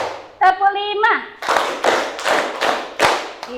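A classroom of children clapping hands in counted rhythm, a teacher's voice leading briefly before several loud, evenly spaced group claps close by.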